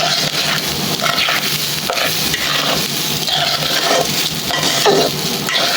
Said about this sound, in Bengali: তো পোলাওর চালটারে আমি এখন একটু ভাজা ভাজা করে নিব